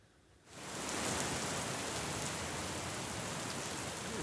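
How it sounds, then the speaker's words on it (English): Hail pelts a car outside, beginning after a brief near-silence and swelling into a dense, steady roar of rapid impacts that continues without letup. "it's hailing outside, and my car is getting pelted"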